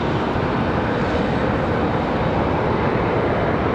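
A Boeing 757 passing over Charlotte Douglas International Airport, a loud, constant rushing jet roar filling the whole stretch, with no speech.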